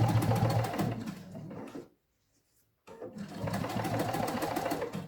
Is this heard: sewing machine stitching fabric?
yes